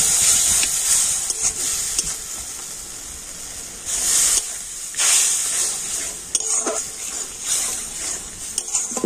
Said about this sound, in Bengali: আর এখন আমি সমস্ত মশলাগুলো খুব ভালো করে কষে নেব।